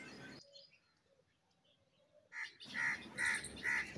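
Small bird and crow calling from a tree, the nesting adults anxious over their young: a short burst, faint scattered chirps, then loud repeated bird calls in three close pulses near the end.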